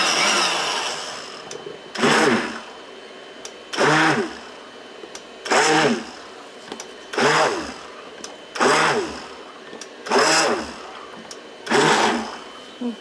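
A big old blender mixes a batch of cold process soap, starting and stopping in six loud, even whirring bursts separated by short pauses of quieter background.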